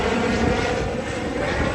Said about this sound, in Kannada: ಹೆಲಿಕಾಪ್ಟರ್